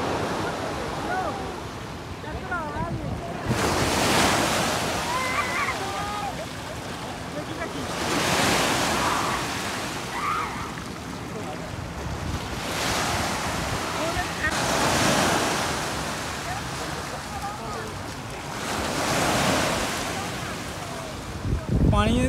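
Sea waves rolling onto a beach in Dubai, surging in repeated swells every few seconds with wind buffeting the microphone and faint voices in the background.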